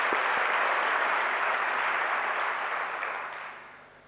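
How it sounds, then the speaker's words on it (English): A lecture audience at the Africa Day Lecture gives a warm round of dense, sustained applause that holds steady and then fades away toward the end. "So I'm sure you'll join me in thanking him again with a warm round of applause."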